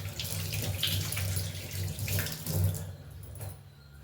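Tap water runs steadily into a sink with light splashing as hands are rinsed, then the flow eases and quiets near the end.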